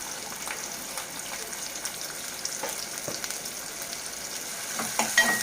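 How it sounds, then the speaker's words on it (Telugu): Thinly sliced onions fry in hot oil with a constant soft sizzle, and occasional louder pops and stirring scrapes come through, close up, with no voices. "ఉల్లిపాయలు బాగా ఎర్రగా దూరగా వచ్చేంత వరకు వేయించుకుందాం"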